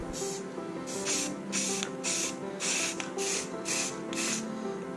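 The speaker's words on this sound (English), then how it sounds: "Add a couple of coats of paint to the rod holder and mount." Short hissing bursts of spray paint coating a kayak rod holder and mount, about eight evenly paced sprays in quick succession, close and steady with no talking.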